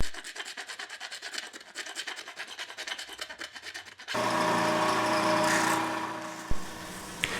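Japanese Iwasaki files rasp across electric violin wood in a quick run of rhythmic strokes, followed by a steadier, louder abrasive rubbing, all close up and without talk.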